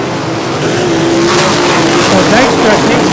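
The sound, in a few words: sprint cars racing at Ohsweken Speedway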